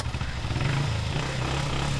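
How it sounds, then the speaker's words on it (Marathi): A motorbike engine drones steadily, close and fairly loud, for a couple of seconds, with no voices over it. "चल ना स्टार्ट कर गाडी"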